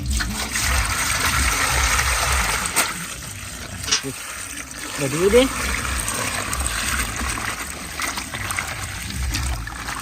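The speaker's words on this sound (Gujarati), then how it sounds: "સૌથી પહેલા આપણે જે પાપડીઓ લાવ્યા હતા એને સારી રીતે ચોખ્ખા પાણીમાં ધોઈ નાખીશું" Papdi beans being washed in clean water in a village kitchen: steady splashing and trickling water runs throughout, close and fairly loud, with a person talking over it.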